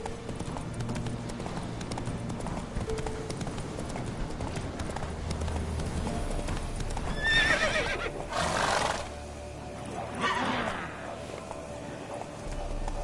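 A horse gallops in Witcher 3 with rhythmic hoofbeats running steadily, a whinny rising partway through, and a faint rider's shout over the clatter.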